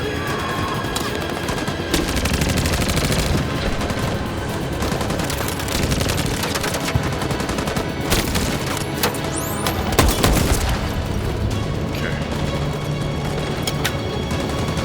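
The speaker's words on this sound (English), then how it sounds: "Grenade, nice." Loud, dense gunfire rattles in continuous bursts in a Detroit: Become Human battle, with heavy explosive booms, one strongest near the middle, over a constant roar of combat.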